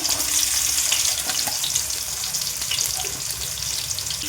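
Onions fry in hot oil in a pan for a gongura chicken curry, making a loud, continuous close-up sizzle with faint spoon clicks and no talking.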